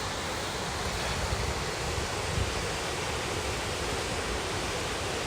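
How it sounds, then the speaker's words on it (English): Rushing water near Loch Lomond roars as a steady, broadband wash, close and loud, unchanging across the whole stretch with no voices. "I can really hear the water."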